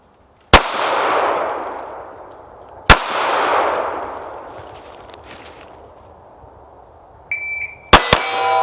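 Two loud, sharp gunshots at an outdoor 100-yard gun range, about two seconds apart, each trailing off in a long ringing echo, followed by a short beep and a few clacks at the end.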